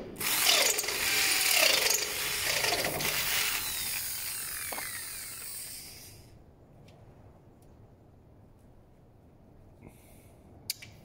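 A power drill bores a 12.5 mm hole while an orchard sprayer is being repaired, giving a harsh, loud grinding whir for about six seconds before stopping, followed by quiet background and a few faint clicks.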